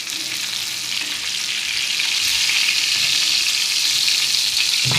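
Shipla fish frying in hot oil, a loud, continuous crackling sizzle that stays steady and close throughout, with no voices.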